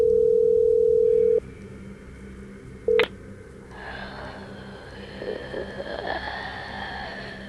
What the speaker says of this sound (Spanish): Usé el teléfono de mi amigo para llamarme.